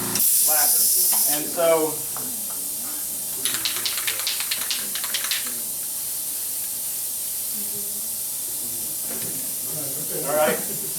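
Black gloss lacquer sprays from a can in a rapid series of short hissing bursts, close and fairly loud, with someone talking before and after the spraying.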